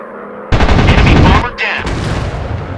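Loud bursts of machine gun fire from a WW2 F4U-4 Corsair fighter plane in a video game dogfight against boats and warplanes: one long rapid burst, a short pause, then another stream of fire.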